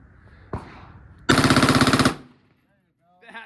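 Automatic gunfire at a shooting range, a loud close burst of rapid shots lasting under a second, preceded by a single bang and followed by a brief voice.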